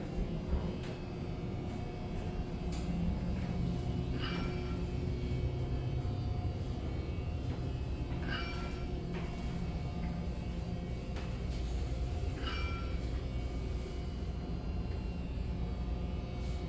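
Riding inside a Schindler 3300 traction elevator cab at a Tampa hotel: a steady low rumble and hum of travel with faint intermittent clicks, quiet and continuous.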